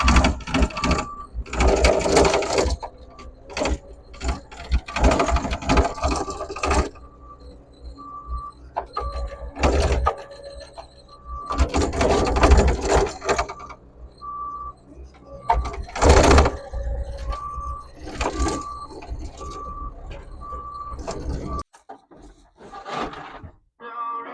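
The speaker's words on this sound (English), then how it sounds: "I'll start this machine over here." Construction machine engine at a sewer line backfilling and grading site, cranked and running with a rough, pulsing mechanical roar and recurring short tones, interrupted by quieter gaps, with someone talking nearby.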